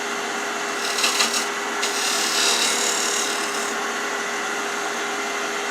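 A skew chisel cuts a wooden chess pawn spinning on a lathe, a steady scraping hiss over the constant motor hum, with brief stronger cuts, close by.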